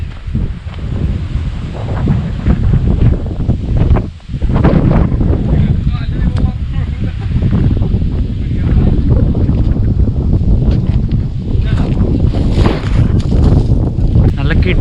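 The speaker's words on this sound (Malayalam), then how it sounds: "നല്ല കിടിലും കാറ്റാണ്ട് ഇതിൻ്റെ മുകളിൽ." Strong, steady wind on a hilltop beside a small old temple at Rosemala in Kollam, roaring and buffeting loudly against the microphone throughout with hardly a pause.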